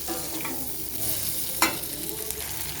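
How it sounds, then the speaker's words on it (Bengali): Soya chilli with capsicum and tomato is stirred in a hot pan, a steady sizzle broken by scraping strokes and one sharp utensil knock midway, with no voices. "দেখো বন্ধুরা, আমি নেড়ে চেড়ে নিলাম খুব ভালো মতন।"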